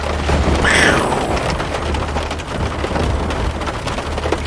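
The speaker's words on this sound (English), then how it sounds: "That thunder sounds like one of those old horror movies" Steady rain with rumbling thunder in the X-Plane 11 flight simulator, heard on a flight from Joliet Regional to Greater Kankakee; a continuous wash of rainfall over a low rumble, with one swelling roll early on.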